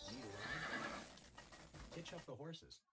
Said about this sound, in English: Hitch up the horses.